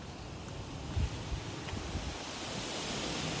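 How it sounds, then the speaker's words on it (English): Wind gusts buffet the microphone outdoors beside an old 1979 Chevrolet C10 pickup, a steady broadband rush with a few low thumps early on, no talking. "sorry about the wind here, it's pretty darn windy"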